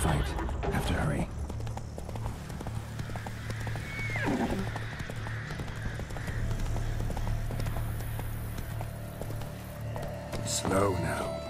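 Hooves of Roach, the horse in The Witcher 3: Wild Hunt, beat a continuous galloping rhythm up close, with a whinny and game ambience layered in and a voice talking at moments.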